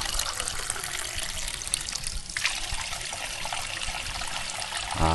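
Water from a pump runs and splashes steadily in a continuous bubbling stream, close by, with a brief shift in tone partway through.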